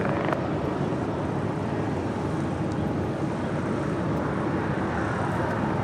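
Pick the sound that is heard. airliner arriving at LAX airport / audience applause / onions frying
airliner arriving at LAX airport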